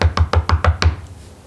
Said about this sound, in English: I knocked on the house.